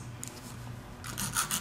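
An artificial nail tip is being filed straight across into a square shape, giving short, close rasping strokes, light at first and then stronger, brighter scrapes in a quick run at the end.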